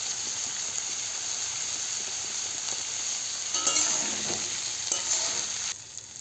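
Peas and potatoes fry in a pan for a ghugni dish, a steady close sizzle with oily hiss throughout, a few clinks and stirring scrapes near the middle, easing slightly at the end.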